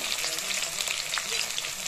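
Potatoes and onions fry in a pan under a constant close sizzle, with a few light scrapes as they are stirred.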